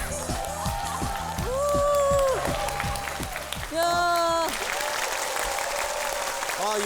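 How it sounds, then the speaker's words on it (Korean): Studio audience applause on a Korean talk show, a steady wash of clapping that runs under singing and lively talk, with some cheering around it. "박수."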